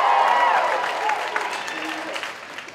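Spectators at a street performance clap, shout and scream to vote for a gross sideshow stunt, a loud burst that tapers off as a voice carries over it.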